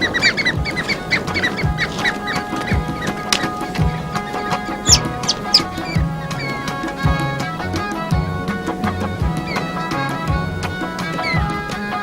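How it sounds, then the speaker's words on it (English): Birds calling in an Eritrean green forest and plantation area, a dense chorus of overlapping honking and chirping calls, some near and loud, with no talking. "Visitors cannot fail to experience the soothing sound of birds that bring peace and delight."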